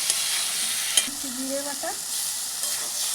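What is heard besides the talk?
tomatoes and spices frying and being stirred in a pan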